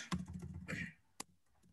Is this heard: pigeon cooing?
no